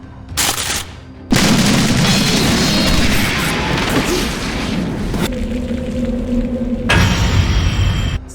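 Anime gunfire from Tougen Anki: a burst of loud booming shots and crashing impacts, dense rapid volleys that break off and resume, with a brief quieter gap between blasts.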